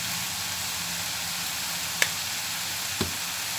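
Chicken breast and vegetables sizzle in a pan, a steady close hiss broken by two sharp clacks of stirring utensils against the pan.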